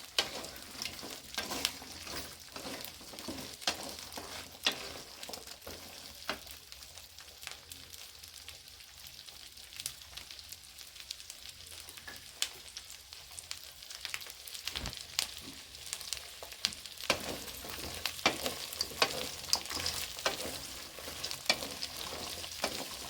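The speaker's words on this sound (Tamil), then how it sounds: "பொன்னிறமாக வர அளவுக்கு வதங்கணும்" A cup of garlic sautés in oil until golden for pirandai chutney, giving a steady, close frying sizzle with scrapes of stirring throughout and no talk.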